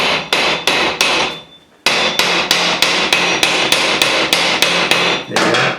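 Steel hammer blows flattening the sides of a scrap bolt, a steady run of loud sharp strikes about twice per second with one short pause, close and alone.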